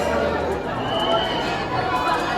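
A dense crowd murmurs and chatters outside Omkareshwar temple. The babble stays continuous and close, with no single clear voice standing out.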